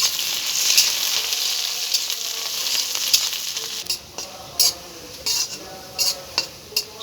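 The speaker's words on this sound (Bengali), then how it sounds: "শুকনো মরিচ, পেঁয়াজ, রসুন আমার হালকা একটু ভাজা হয়ে গেছে।" Dried chilli, onion and garlic frying in oil in a pan, a loud continuous sizzle at first, then broken into bursts by repeated stirring scrapes.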